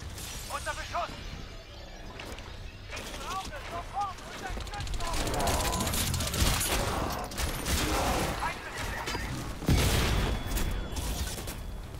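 Rapid gunfire and explosions crackle through a city firefight in the video game Crysis 2, loud and dense across the whole stretch, with shouted in-game voices and someone talking over the bursts.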